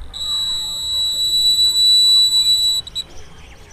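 An obstacle-sensor alarm on a pair of smart glasses for the blind, built without Arduino, sounds as a piercing, continuous high electronic buzz near a wall, steady and loud before breaking into short stutters and stopping, with no voices.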